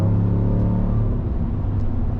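A GMC Sierra AT4 pickup with a Borla S-Type exhaust accelerating, a steady deep rumble that stays loud and close throughout without any break.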